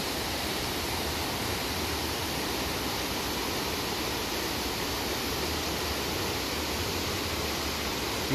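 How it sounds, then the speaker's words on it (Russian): A small waterfall beside a washed-out mountain road, a steady broadband rush of falling water that holds even and unbroken throughout, moderately loud and alone. "Маленький водопадик."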